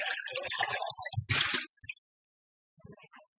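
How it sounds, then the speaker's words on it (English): Water squeezed and drained from vegan bowl ingredients makes a close, wet squishing and dripping, dense at first, then breaking into a few brief splashes and drips after a pause. "Take all that water out."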